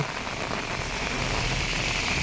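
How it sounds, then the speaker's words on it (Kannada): Steady heavy rain hisses continuously at Hulikal Ghat near Thirthahalli, a dense, even wash of noise with no voices. "ಓ ಸಿಕ್ಕಾಪಟ್ಟೆ ಮಳೆ ಗುರು"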